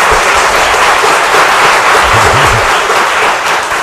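Audience applause at a council meeting, a dense burst of clapping heard close and loud for a few seconds.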